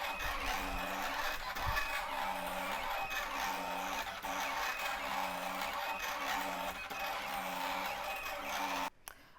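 A Silhouette CAMEO cutting machine cuts sticker material, giving a steady, fairly quiet mechanical whir with a repeating rhythmic pattern that runs for several seconds before stopping abruptly near the end.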